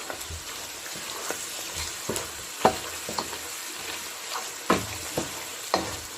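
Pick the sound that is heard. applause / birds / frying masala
frying masala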